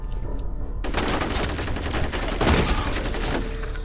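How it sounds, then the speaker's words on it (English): Rapid bursts of gunfire and grenade blasts in the video game FEAR, a loud continuous volley starting abruptly after a near-silent moment. "Burning off some major grenades tonight."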